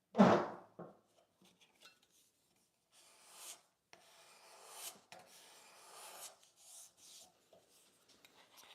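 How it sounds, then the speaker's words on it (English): A card scraper smooths rasp marks on a wooden leg in a quiet workshop, making soft, intermittent scraping strokes of varying length, faint and close, with no talking. "I'm really impressed at how well the card scraper can clean up the scratch pattern from the rasps"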